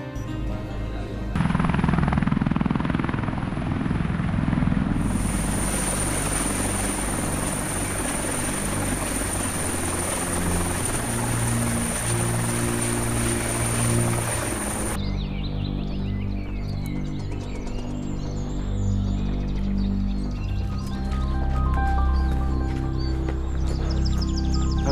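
A helicopter flies with a loud, continuous rotor thrum and a high whine, steady for the whole stretch, its tone shifting partway through with brief chirps in the background.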